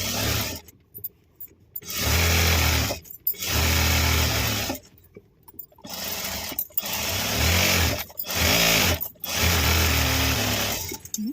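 A sewing machine stitches a return gift for the Varalakshmi festival in several close, loud bursts of rapid whirring, each run lasting a second or two with short pauses and handling noises between.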